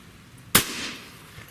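A single sharp shot from an AEA HP SS Max .35 caliber airgun pistol, a loud close crack with a brief trailing decay amid otherwise quiet surroundings.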